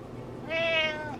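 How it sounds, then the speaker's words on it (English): A single drawn-out meow from a lonely cat in a home hallway, close and fairly clear, with a slight rise and fall, alone without talk. "Meow. Yeah."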